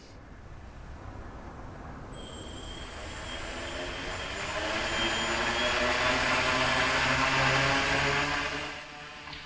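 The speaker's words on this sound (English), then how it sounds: "On this final test, I reversed the spinning direction of the props." An nVader 600 drone with its propellers reversed spins up into a rising electric whine and whirr, a high tonal motor pitch that climbs and holds loudly before dropping off near the end.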